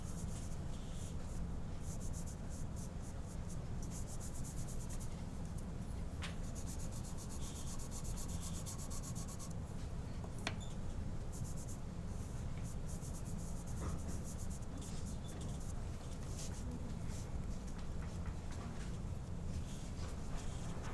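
Pastel colours blended by rubbing with fingers on paper, a soft continuous scratchy rubbing texture, close and quiet, steady throughout with occasional faint ticks.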